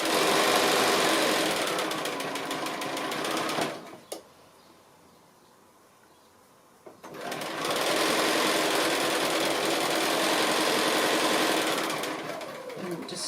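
A sewing machine stitches a quilt seam for a set-in 60 degree diamond, running in a steady fast whir for about four seconds, pausing briefly, then resuming for a longer run, with no talk.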